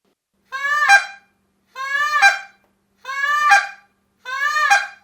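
Four evenly spaced, loud two-note honks from a short reed goose call, each a rising clucking blast imitating Canada geese, separated by brief silences and heard up close with no other sound.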